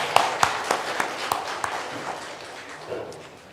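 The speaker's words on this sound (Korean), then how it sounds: "다시 한번 박수하겠습니다." A church congregation applauds during a Sunday worship service, thanking the orchestra and vocal ensemble; sharp claps ring out at first, then thin into a softer, fading patter of scattered hands in a reverberant hall.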